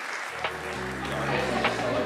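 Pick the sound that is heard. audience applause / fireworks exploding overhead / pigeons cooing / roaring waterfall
audience applause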